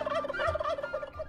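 Chickens in the video game Dwarf Fortress give a short burst of rapid, warbling clucks, close and fairly quiet, with no voices over them.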